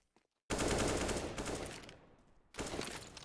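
Sustained automatic gunfire crackles loudly in a Counter-Strike match on the Overpass map, fading out and then starting again in a second burst.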